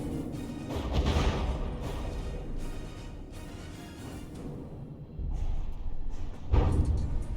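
A heavy missile strike slams into a battleship in From The Depths, sending rolling booms and crashing impacts through a continuous rumble of combat, with a sharper blast near the end.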